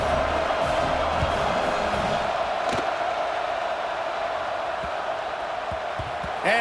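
Stadium crowd noise from the EA Sports College Football 26 video game, a steady loud roar of a subdued crowd before a kickoff, with a brief swell near the middle and murmuring throughout.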